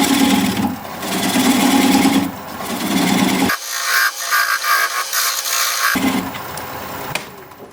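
A wood lathe spinning a wooden bowl blank, a steady whirring hum with shifting cutting noise as the tool trims the piece, the pitch and texture changing partway through.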